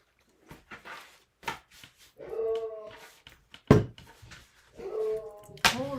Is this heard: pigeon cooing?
no